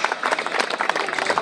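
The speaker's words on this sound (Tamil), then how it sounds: "பூமிக்கு ஒரு கைதட்டு கொடுக்க" Dense, brisk applause from an audience at a Tamil drama performance in T. Kengamuthur, a short burst of many hands clapping close by.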